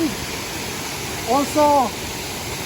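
Mantayupan Waterfall roars in a steady broadband wash of falling water, with a person briefly speaking over it.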